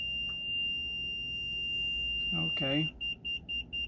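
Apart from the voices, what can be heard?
car dashboard warning beep after turning key on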